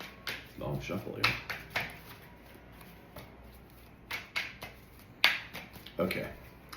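Tarot cards shuffled by hand in a series of crisp, uneven riffling snaps and slaps, close and fairly quiet, with short pauses between bursts.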